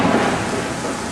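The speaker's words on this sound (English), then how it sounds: "There's a good thunder clap." A loud thunder clap rolls through a thunderstorm, a dense rumbling burst blended with steady rain, close and full for about a second.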